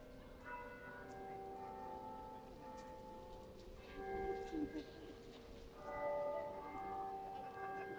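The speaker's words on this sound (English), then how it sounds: "the Minster bells playing out" Church bells of York Minster ring out across the city at night, sustained tolling tones layered over quiet street ambience, with a few voices faintly audible in the background.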